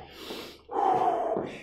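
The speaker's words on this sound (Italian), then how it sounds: "Iniziamo a respirare, naso, bocca. Prendiamo aria e buttiamo fuori." Heavy breathing during a beginner HIIT warm-up: a soft inhale followed by a loud, forceful, breathy exhale through the mouth, close and alone, with no talking.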